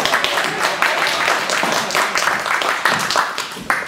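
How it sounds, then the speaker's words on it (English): An audience at a 3D scanning technology demo day gives a round of applause, a dense, fairly loud patter of many hands clapping continuously with some voices mixed in. "You can give her a round of applause."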